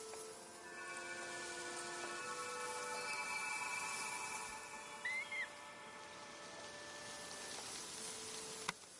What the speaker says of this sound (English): These birds migrate, but we don't know where they come from or where they're going.